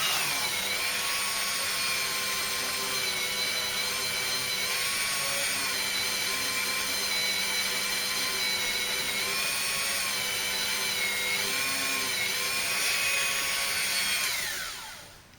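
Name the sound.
polishing mop on rotary tool polishing phone touch screen glass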